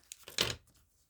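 Scissors cut a curvy edge across the top of folded paper held at the corners, a short close crisp snip and rustle lasting about half a second.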